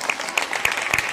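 Audience applause for a performer at an Andalusian music and religious chant evening, a steady wash of clapping with a few louder claps poking through.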